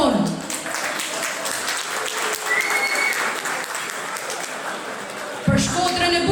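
Audience applause at the opening of a traditional Albanian community evening in London, a sustained wash of many clapping hands, fairly loud and steady, with a voice breaking in near the end.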